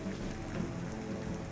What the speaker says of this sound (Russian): Допустим, идет дождь.